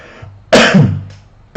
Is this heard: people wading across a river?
no